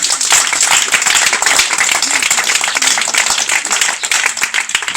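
An audience at a women's month event held by a Haut-Katanga NGO claps for the woman president, dense rapid applause close and loud for the whole stretch, with a faint voice briefly audible.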